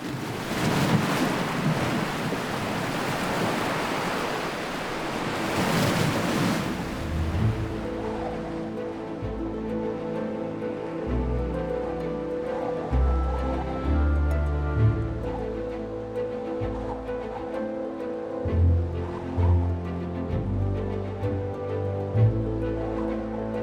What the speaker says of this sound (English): Falling winds lash the surface of the water.